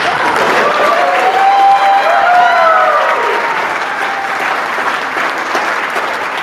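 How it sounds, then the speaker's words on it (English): Wedding guests applaud the newly married couple in a sustained, loud burst of many hands clapping with a few voices and cheers mixed in throughout. "Round of applause, they're married"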